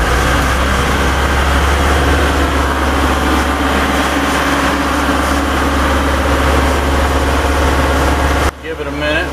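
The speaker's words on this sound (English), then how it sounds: "Go ahead and rev it up." An engine running loud and close right after an oil and fuel filter change, a steady heavy drone with strong low rumble throughout, cutting off abruptly near the end.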